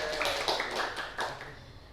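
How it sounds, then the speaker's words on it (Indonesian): Brief scattered hand clapping from a small group in a microteaching classroom, a few uneven claps fading out within two seconds. "tepuk tangan untuk Mbak Iza"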